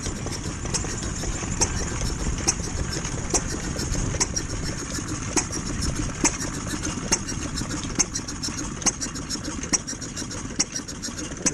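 Steam engines chuff and clank at a wet, muddy steam rally, a steady mechanical rhythm with sharp periodic knocks and hissing over a dense low rumble, loud and continuous with no talk.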